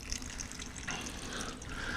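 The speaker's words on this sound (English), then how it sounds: "we created a little water feature over here from them, for them from reclaimed items" Water trickles steadily through a small garden water feature built from reclaimed items, a soft, continuous running-water sound with a light splashy texture heard close by and alone.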